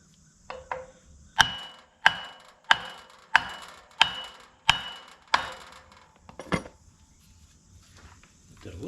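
A Kuhn GMD 240 mower bearing being struck with a plastic hammer, a series of about seven sharp, evenly spaced knocks close by, then a couple of lighter taps and quiet handling noise.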